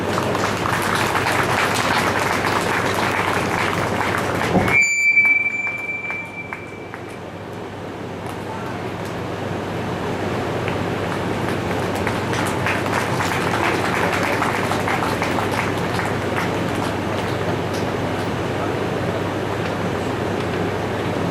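Audience applause at a Hanuman katha: a dense, sustained wash of clapping from a crowd, broken around the middle by a short high tone before the clapping swells steadily again.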